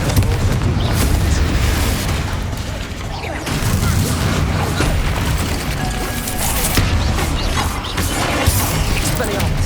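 Confringo fire blast spell explosions in Hogwarts Legacy amid a dense, continuous roar of booming blasts and crashing combat effects, loud throughout, with speech mixed in.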